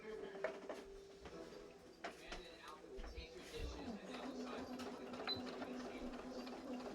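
A sewing machine stitches a seam on a skirt, its motor whirring in short runs and stopping between them, with a voice speaking over part of it.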